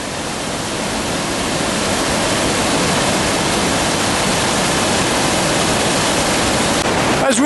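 Water rushing over a weir on the River Thames near Henley, a loud, steady, broadband roar heard close up that fills the whole stretch without a break.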